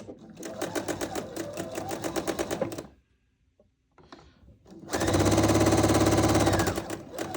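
A sewing machine stitches a quarter-inch seam joining quilt triangles, running in a rapid mechanical chatter for a few seconds, pausing almost silent, then starting again louder and faster.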